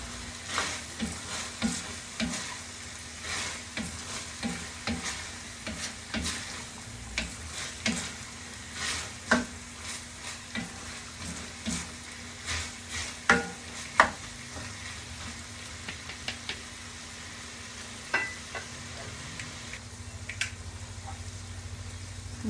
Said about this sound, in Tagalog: Haluin na lang po natin ulit.